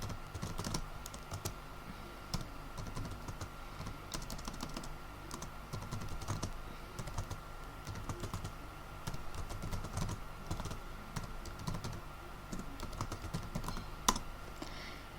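Steady, quiet typing on a computer keyboard as commands are entered in an Ubuntu terminal, with continuous close key clicks at an even rhythm and one slightly louder tap near the end.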